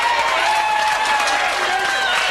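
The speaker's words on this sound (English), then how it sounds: "Give it another round of applause, John Hogan." An audience at a memorial tribute to local music legends gives a round of applause after a performance, sustained crowd clapping mixed with murmuring and a little cheering, with a tonal hum running beneath it.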